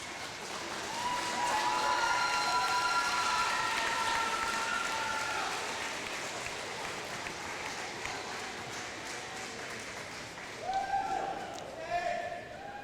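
Graduation ceremony audience applauding a crowd of parents, a broad sustained wash of clapping that swells early and slowly fades, with cheers and a few voices rising above it near the end.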